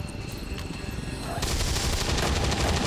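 Gunfire in XCOM 2 erupts as a dense, sustained burst of rapid shots, loud and close, following a quieter stretch of game ambience.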